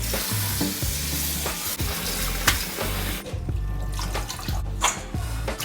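Bean sprouts being washed in water for a Filipino togue dish, with a steady close-up splashing and sloshing punctuated by sharp clatters and knocks, no voices over it.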